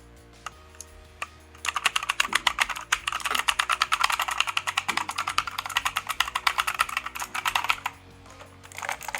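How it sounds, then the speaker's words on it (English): Fast, steady typing on a Redgear Shadow Blade mechanical keyboard with clicky blue switches gives a dense run of sharp clacks. It starts after a few isolated taps and is heard close up and alone. "And I personally find this sound really annoying, the clicky blue switches."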